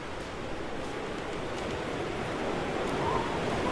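Wind blows steadily in the snowy wilderness survival game The Long Dark, a soft continuous broadband rush with no breaks, fairly faint and alone.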